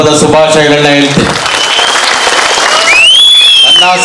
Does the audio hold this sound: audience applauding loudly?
yes